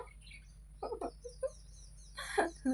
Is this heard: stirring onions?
no